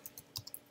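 Several light keystrokes on a computer keyboard, quiet clicks spaced irregularly over less than a second, close and soft with no talking.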